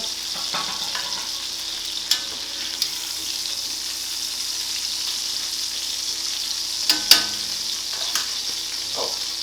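A steak fries in a pan over low heat with a steady, soft sizzle throughout, broken by a few faint clicks and taps.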